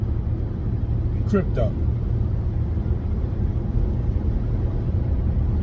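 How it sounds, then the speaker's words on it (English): Steady low road rumble of a car cruising down a highway, a continuous drone that sits under someone talking close to the microphone. "riding down the highway"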